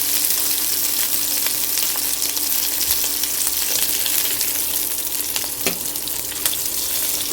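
Cauliflower florets and potato pieces fry loudly in a pan of hot oil for aloo gobi, a dense, even sizzle throughout with a few sharper pops and clicks.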